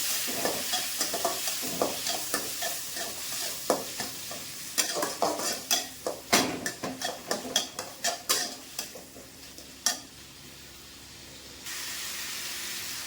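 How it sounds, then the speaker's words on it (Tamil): Tomatoes sizzle in a hot pan while a spatula scrapes and stirs with repeated clacks, then the frying settles into a steady hiss. "அதையுமே போட்டு நல்லா வதக்கலாம்"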